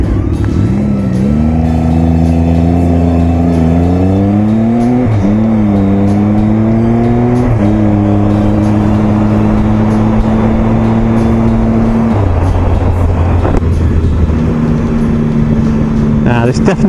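Aprilia Tuono V4 APRC V4 motorcycle engine while riding on a rough road, a steady loud drone that rises and falls in pitch as it accelerates and shifts gears, running continuously throughout.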